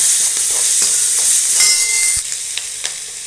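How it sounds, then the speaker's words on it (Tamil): Onions sautéing in a pan for drumstick sambar, giving a steady bright sizzle with a few soft stirring taps, close and uninterrupted, no voices. "வெங்காயம் வதக்கிக்கிறேன்"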